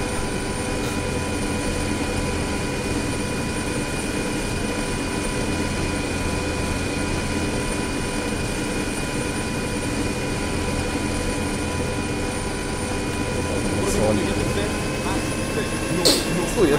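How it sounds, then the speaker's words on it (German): A helicopter in the video game Escape Panthera drones continuously with a steady rotor and engine hum, constant and fairly loud, while players talk over it. "Ah, keine Fallschirme, Hubschrauber."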